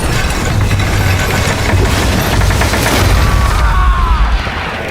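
Incendiary projectiles exploding in a large battle scene with ships and chains, heard as a dense, continuous roar of booms and rumbling blasts with crackling debris, loud and sustained throughout without any voices.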